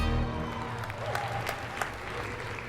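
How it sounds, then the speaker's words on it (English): Thin, scattered clapping from a small part of the audience at the Samsung Galaxy S4 launch event, starting briefly and fading into quiet hall ambience. "Not much applause."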